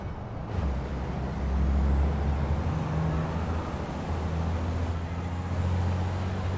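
A racing truck at Misano in Truck Racing Simulator gives a sharp air-brake hiss near the start, followed by a steady, loud low engine roar.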